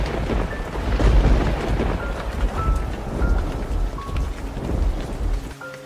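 Steady, heavy rain pours down with a dense hiss and patter, continuous and fairly loud, with no voices, ending abruptly.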